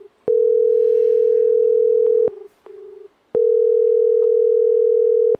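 A phone line tone during a call to a mother: a loud, steady tone holds for about two seconds, drops to a quieter pair of short tones, then returns steady and loud until the end.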